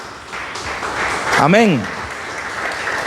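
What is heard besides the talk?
church congregation applause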